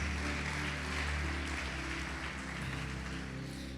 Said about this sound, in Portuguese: Pode aplaudir, glorificar o Senhor Jesus.